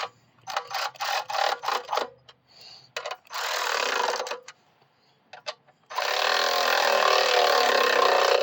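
A power tool runs bolts down during repairs on a Coleman B200RSV mini bike. A series of short whirring bursts gives way to a longer burst and then a sustained buzzing run, close and fairly loud, with no talk.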